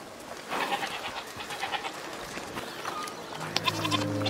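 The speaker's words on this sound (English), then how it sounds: "Goats!" Several goats bleat in overlapping calls in the video game A Plague Tale: Requiem, some higher and wavering, over a busy ambient background.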